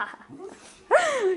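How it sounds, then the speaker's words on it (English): A Doberman puppy gives a short, faint whimper, then a louder rising yelp-bark that trails off, close by with no talk. "It's a cute little puppy Doberman thing."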